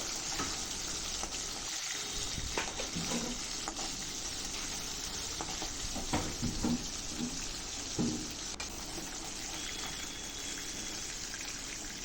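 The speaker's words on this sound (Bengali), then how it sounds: "এভাবে আমি বাকি মাছগুলো ভেজে তুলে নেবো" Pieces of pona fish (carp) frying in hot oil in a wok: a steady, dense sizzling hiss throughout, with occasional soft clatters from turning the fish and no talking.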